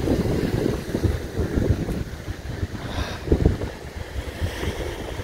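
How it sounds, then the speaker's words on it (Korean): Steady wind blows hard across the microphone at a seaside fishing spot, a continuous rough rumble with gusts, with surf faintly mixed in. "오늘 좀 바람이 부네요"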